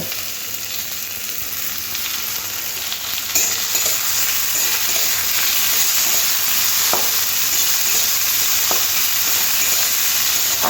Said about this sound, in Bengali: দিয়ে দেবো আলু একসাথে গাজরের আলু একসাথে একটু ভেজে নেব